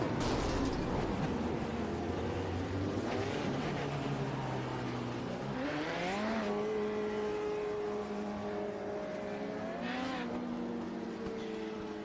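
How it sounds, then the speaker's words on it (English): A Legends race car in the iRacing sim spinning donuts on the runoff strip at Lime Rock Park: a revving engine whose pitch sweeps up and down, mixed with squealing tires, steady and moderately loud. "Donuts on the runoff strip."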